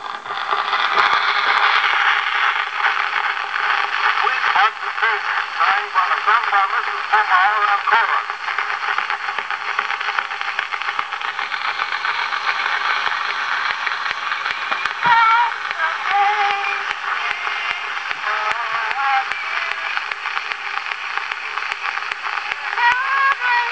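An old, crackly 1900 brown wax cylinder home recording of a woman and chorus singing plays through heavy surface noise and hiss, thin and band-limited, lasting a long stretch.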